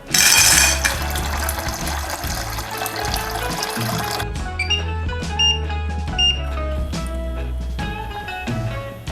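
Tap water runs hard into a cooking pot at the start, about one and a half litres for boiling 300 grams of pasta, then gives way to light kitchen clatter and background music.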